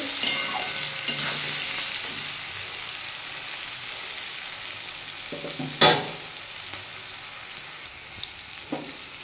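Flat beans and capsicum fry in a pan of hot oil, sizzling steadily and close, with occasional scrapes and clinks from stirring and one louder clatter near the middle, no voices.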